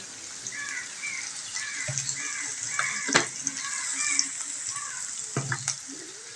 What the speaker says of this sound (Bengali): কিছুক্ষণ একটু তেলের মধ্যে ভাজা ভাজা হোক